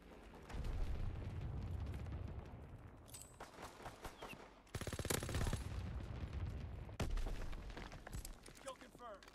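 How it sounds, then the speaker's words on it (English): Anti-aircraft guns fire in the video game Call of Duty: WWII, a continuous rattling barrage with heavier booming bursts. It is loud and near, and voices can be heard under the gunfire. "Anti-aircraft burst has commenced. Targeting enemy aircraft."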